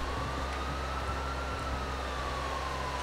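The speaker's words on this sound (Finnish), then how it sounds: "Miten ambulanssi voi olla noin kova?" An ambulance siren in the video game GTA IV wails with a slowly rising and falling tone, loud and continuous over a dense rumble of game traffic and engine noise.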